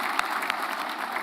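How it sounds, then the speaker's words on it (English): A Canadian Club audience gives a brief, steady round of applause for employers, dense clapping throughout with no voices on top. "I think that's worth a round of applause for all employers."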